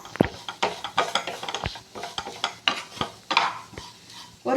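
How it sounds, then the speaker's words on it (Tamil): Semolina and grated coconut stirred in a pan for a banana sweet, a close series of irregular scraping, clinking strokes of a utensil against the pan, alone without talk. "ஒரு கப்புனா 50 கிராம் அதையும் சேர்த்து நல்லா கலந்து விட்டுடலாம்"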